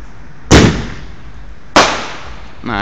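A Dragon Artillery firework mortar shell goes off: one sharp loud thump is followed about a second later by a bigger booming burst with a decaying rumble, and another crack starts just at the end.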